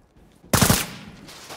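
Sudden burst of close automatic gunfire in the Sniper Ghost Warrior 3 video game: after a quiet lead-in, a loud rattling volley erupts, then fades into echoing tail and quieter distant shots.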